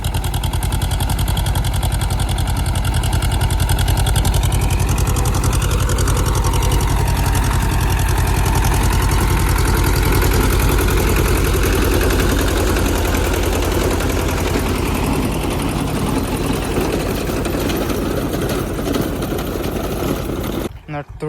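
A tractor working a rotavator through tall, dense grass churns out a loud, steady, close engine drone with constant mechanical clatter, running unbroken for about twenty seconds before cutting off abruptly at the end.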